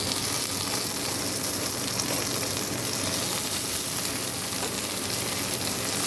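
Tomato going into a hot frying pan, heard as a loud, dense, continuous sizzle with a faint stirring texture running beneath it, close and unbroken throughout, with no voices.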